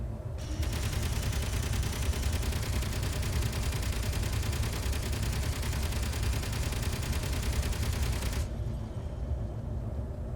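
Dense, continuous automatic gunfire in the Space Engineers video game, a steady rapid burst of shots running for about eight seconds before cutting off into quieter hum.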